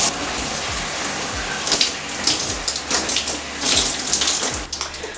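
Steady running water while hair is rinsed, a continuous close splashing stream with irregular spatters and drips as the flow hits hair and skin, and no talk.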